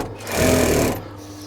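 1960s Singer 366K225 industrial sewing machine with a clutch drive and slow motor, a short loud run of rapid mechanical stitching that rises in and cuts off after about half a second, with motor hum before and after.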